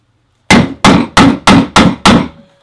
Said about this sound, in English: I use this little crate hammer